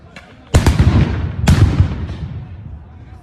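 Stun grenades explode at Al-Aqsa Mosque during prayers, two sharp loud blasts with long booming decays, the first following a faint distant pop, with crowd noise underneath.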